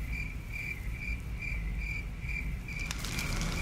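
Crickets chirp steadily and continuously in a dense, pulsing high trill that runs without a break. There is no talk, and a low background rumble sits underneath.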